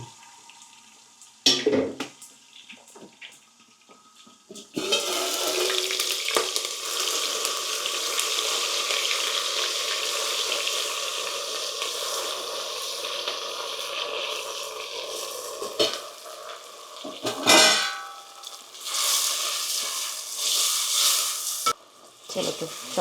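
Asafoetida, green chillies and tomatoes hit hot oil in a pan for palak paneer, a sharp sizzle that swells and holds steady with stirring clatter and brief pauses.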